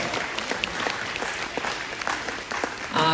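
Audience applause at an anniversary celebration of an art association in Kryvyi Rih, steady clapping from a crowd at moderate level with sharper individual claps, a brief other sound entering at the very end.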